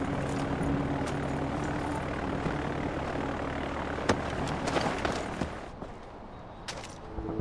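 An airplane taking off in Far Cry 4, a steady droning engine roar that holds level for several seconds with a few sharp pops and clicks over it, then eases slightly toward the end.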